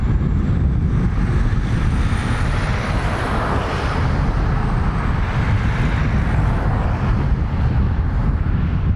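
Aer Lingus airliner arriving from Paris at Dublin Airport, a steady broadband roar of jet engines with rumbling low end and wind buffeting, sustained and fairly loud throughout with no talk.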